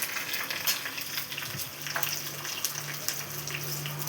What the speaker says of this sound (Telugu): ఇది కొంచెం వేగాలి.